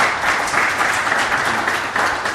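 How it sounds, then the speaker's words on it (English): An audience at a live conversation event applauds two men, David and Jerome, with a continuous wash of many hands clapping, fairly loud and sustained to the end. "And then a round of applause to David and to Jerome."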